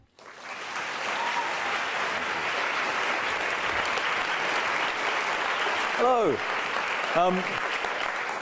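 A lecture-hall audience claps steadily for about eight seconds, welcoming a guest speaker of Food First, with a short greeting from him near the end as the clapping carries on.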